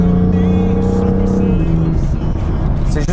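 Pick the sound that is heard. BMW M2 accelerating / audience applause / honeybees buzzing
BMW M2 accelerating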